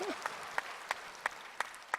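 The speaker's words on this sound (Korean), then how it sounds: "마지막 박수!" At a healing-center gathering, an audience claps in unison, a faint, evenly spaced series of about six sharp claps roughly a third of a second apart over a soft murmur.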